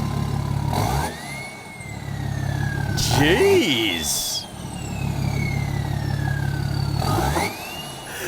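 VW V10 TDI diesel engine revving in repeated surges, each rise carrying a climbing whine over a low, steady engine drone, with a voice speaking briefly partway through.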